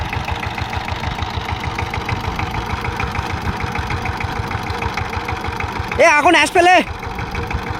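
A Saifing 12 horsepower power tiller engine chugs steadily in a loud, close, rhythmic idle throughout, with a brief shout of voices near the end.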